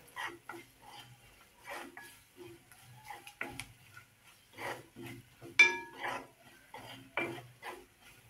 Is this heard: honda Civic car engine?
no